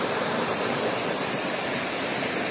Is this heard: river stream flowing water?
yes